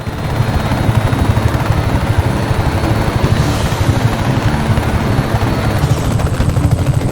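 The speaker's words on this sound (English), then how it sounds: "If I had the top-of-the-line helicopter," Helicopter in the video game Just Cause 3, a loud, constant rotor thump and engine whine filling the whole stretch, steady and close with no speech.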